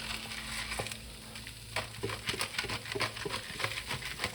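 Food sizzling and frying in a pan while pepper is ground in, steady crackling with patter and stirring scrapes, close and moderately loud.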